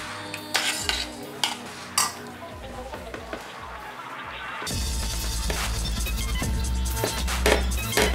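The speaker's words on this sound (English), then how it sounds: "Make sure you give those a good stir." Potatoes are stirred in a pan, with a few sharp utensil clinks against the metal, then a steady close sizzle of frying fat, with no talk.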